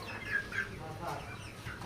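Chickens at a poultry seller's shop cluck in a few short, soft bursts, heard faintly over low background noise.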